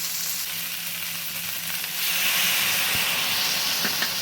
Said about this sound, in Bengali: এবার এটাকে ভালো করে নেড়ে চেড়ে মশলাটা সবজির সঙ্গে মিলিয়ে দেব।